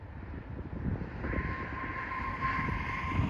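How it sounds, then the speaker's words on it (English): A steady low rumble of a train at a station, with a sustained tonal hum joining partway through; no voices, constant moderate loudness. "We are at the train station."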